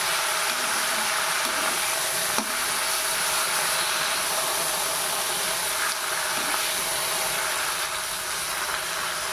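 Dondakalas leaves sizzle in hot oil in a pan with a steady, even hiss that holds at the same level throughout, broken by a few faint clicks.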